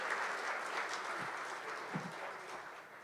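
Applause from the audience at an awards ceremony for age-positive work, a steady wash of clapping that runs the whole time at moderate level without standing out strongly.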